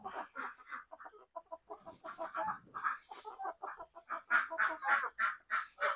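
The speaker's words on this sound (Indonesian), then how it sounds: "Ada ayam tuh, lumayan lah, ayam kotak" Caged backyard chickens in a home garden, a small flock of about eight, cluck steadily and busily for several seconds, close by and loud with no talking over them.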